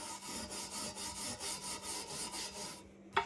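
A tool scrapes old silicone out of the rope channel on a stove door in rhythmic back-and-forth strokes, close and moderately quiet, ending with a sharp tap.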